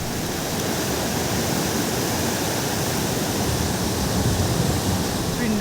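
The Pindar river rushes in a steady, loud, broadband roar of flowing water beneath a footbridge in snowy high mountains, continuous throughout.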